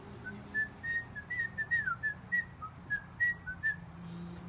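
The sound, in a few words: person whistling outdoors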